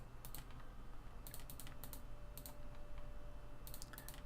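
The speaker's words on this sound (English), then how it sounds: "It's annoying to have to click through all of this" Sharp computer mouse clicks tap in short clustered bursts while someone navigates the menus of the strategy game Hearts of Iron IV, close and crisp over a steady low hum.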